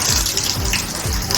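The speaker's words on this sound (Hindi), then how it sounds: "पानी टपकता है" Water running and dripping through a kitchen strainer, a continuous close splashing flow with a loud, steady watery hiss.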